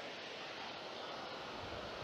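Water pours over the overflow spillways of the Edertalsperre dam in Hessen, a steady broad rushing roar heard from a distance, constant and unbroken with no voices.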